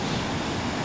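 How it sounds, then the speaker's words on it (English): Ocean surf surges beneath a rock natural bridge along a rocky coast, a brief, dense, continuous wash of water noise with some wind. "The ocean comes up underneath and makes a private beach."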